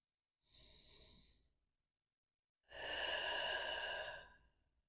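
Two slow, deliberate breaths during a yoga session, a soft inhale followed by a pause and then a longer, fuller exhale, close and quiet with no talking.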